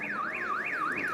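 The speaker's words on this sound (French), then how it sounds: "l'alarme se déclenche." A machine's alarm set off by pressing a button, wailing in a steady rising-and-falling siren sweep, about four cycles in quick succession, loud and continuous with no talking.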